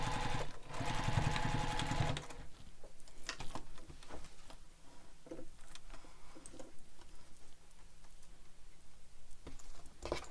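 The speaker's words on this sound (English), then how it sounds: "we'll stitch that together using the seam allowance given in the pattern" A sewing machine stitches a seam on a Leannan bag at a long top-stitch basting length: a short burst of rapid whirring stitching, then quieter scattered clicks and small handling ticks.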